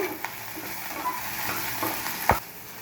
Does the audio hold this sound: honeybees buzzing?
no